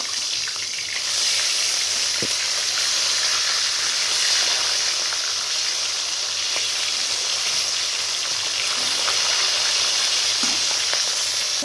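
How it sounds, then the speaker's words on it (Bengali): Steady, loud sizzling of fish frying in hot oil, a continuous crackling hiss with occasional small pops, no talking. "মাছগুলো উল্টে দিয়েছি লাল করে ভেজে নিব"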